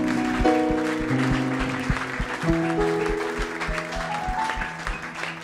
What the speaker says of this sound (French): nous applaudissons très fort le roi des gloires